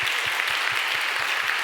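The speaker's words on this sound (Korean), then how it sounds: "우리 한번 크게 박수 한번 할까요?" A church congregation applauds steadily, a dense wash of many hands clapping together at an even pace, with no voices over it.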